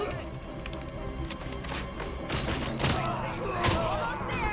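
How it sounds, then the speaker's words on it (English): Gunfire in the video game RoboCop: Rogue City crackles in rapid bursts with heavy impact thuds, loud and dense throughout, amid in-game noise and brief speech. "the gunfights... and the impacts do feel kind of nice."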